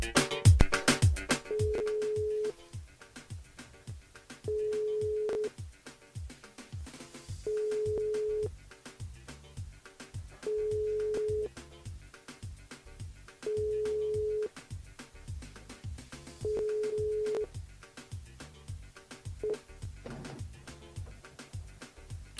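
A telephone ringback tone sounds while a call is placed: a single steady beep repeats about six times at even intervals of roughly three seconds, with faint background noise in between.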